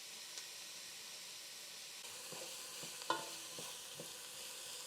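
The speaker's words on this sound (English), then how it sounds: "Now we let it simmer and cook until translucent." Onions and garlic cook in oil in a pan with a steady, soft sizzle. A few light scrapes and taps from stirring come through around the middle.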